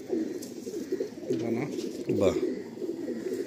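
A hand-held Andhra high-flying pigeon gives a couple of low, throaty coos at close range while someone speaks briefly nearby.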